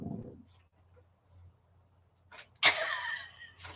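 One abrupt, loud sneeze bursts out close by in a quiet indoor setting, followed by a trailing breathy tail, with a soft earlier murmur and no clear speech.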